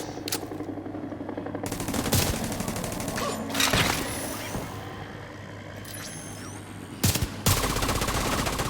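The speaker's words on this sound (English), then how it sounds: "look at that assault turret melting him" Sustained automated turret gunfire in The Division 2, a rapid rattling stream running through most of the stretch with a few louder bursts and impacts, no talking.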